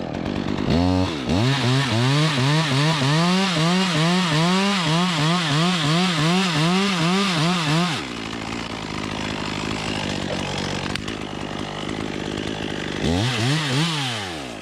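A chainsaw cuts through 40-foot tree limbs during a rigging job, its engine revving up and down in a steady rhythmic pattern as it bites into the wood, then dropping to a rougher idle before revving again.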